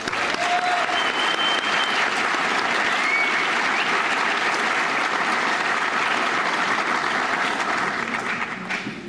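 An audience applauds new members at a National Honor Society induction ceremony in a school auditorium: loud, sustained, dense clapping from a large crowd that fills the whole stretch and tapers only at the very end.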